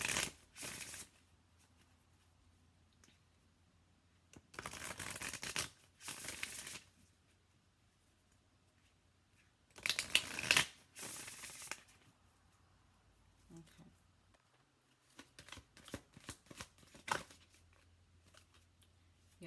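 Tarot cards from Colette Baron-Reid's deck are shuffled and drawn close up. Several separate bursts of rapid riffling and cards slapping together are broken by quiet pauses, with no clear speech.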